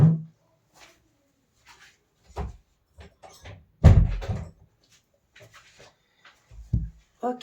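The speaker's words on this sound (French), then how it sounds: "je vais aller fermer ma porte." Someone walks off and shuts a room door in a quiet home: scattered footsteps and handling knocks, then one loud close thud with a brief rattle, followed by more soft knocks and movement, and someone briefly speaking.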